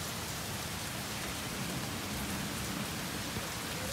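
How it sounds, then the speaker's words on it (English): Hail falling outside a house in Canada during a storm with a tornado warning, a steady dense patter heard from some distance, faint and continuous, with no voices. "Nakita ko lang yung hail."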